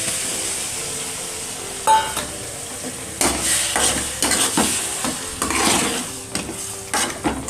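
Chopped tomatoes go into a hot pan for a dhaba-style sev tameta curry, with a bright sizzle and repeated scraping stirs and light clinks of a spoon against the pan, close and clear with no talking.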